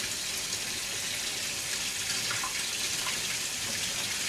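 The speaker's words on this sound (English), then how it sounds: "So I'm just going to continue to rinse this in hot water." Hot tap water runs steadily over Lapua reloading parts being rinsed, a constant hissing gush of water with no talk.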